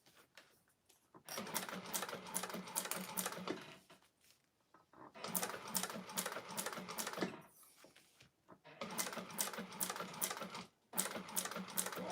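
A sewing machine back stitches on a clutch wallet, running in three longer bursts with a rapid, slightly uneven rhythm and quiet breaks between them, heard up close.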